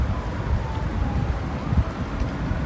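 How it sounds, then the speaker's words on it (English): Wind buffets a microphone outdoors during a crystal-collecting trip, a steady low rumble with gusty swells throughout and no voices. "I hope y'all can hear me right, or hear me well, because, you know, all of this wind"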